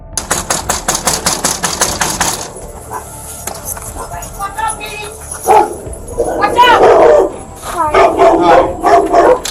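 A dog barks repeatedly in a burst of sharp, loud yaps at the start, then more barking and shouting voices follow during a tense police visit at a home, with people talking over it.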